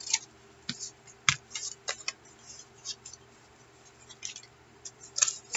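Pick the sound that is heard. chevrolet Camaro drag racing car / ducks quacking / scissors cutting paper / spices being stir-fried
scissors cutting paper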